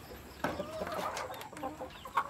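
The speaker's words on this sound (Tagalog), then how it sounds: "Ito yung tandang guys na malaking tandang ito guys." A large rooster clucks in a farm coop, giving several short, close, throaty clucks with faint background noise.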